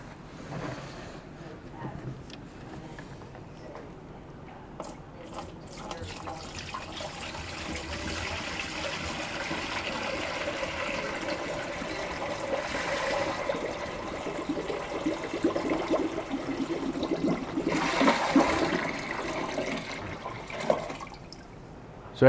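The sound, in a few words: cold water poured into Electro Freeze SL500 machine hoppers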